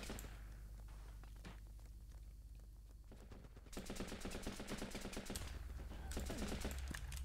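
Rapid bursts of automatic gunfire from the Running With Rifles war game, steady rattling volleys that grow denser and louder midway, with no talk over them.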